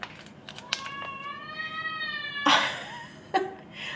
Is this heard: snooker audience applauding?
no